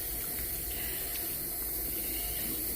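Tap water runs steadily into a sink as hands are washed, a continuous hissy splash that stays even throughout with no talking.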